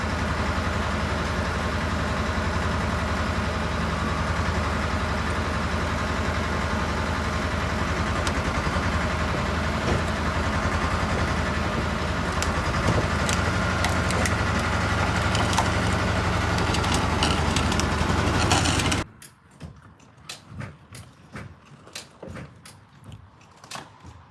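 A tractor engine idles steadily at close range on a pole barn build site, a constant low rumble with scattered knocks that cuts off abruptly near the end, leaving quiet shuffling noises.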